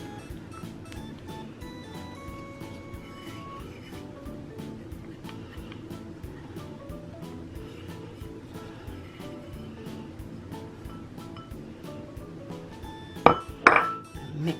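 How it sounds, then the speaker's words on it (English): A spoon scrapes and clinks in a bowl as ground vanilla wafer crumbs are stirred into melted butter for a banana pudding cheesecake crust, giving a steady repeated stirring rhythm, close, with a couple of louder clinks near the end. "Mix this around until it's all combined"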